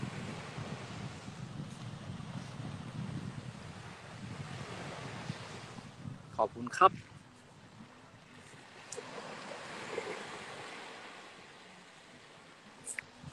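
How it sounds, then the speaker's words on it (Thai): Sea waves wash softly onto the shore in a faint, steady rush mixed with wind noise, with a few brief handling knocks partway through. "นั่งฟังเสียงคลื่นนั่งฟังทะเล"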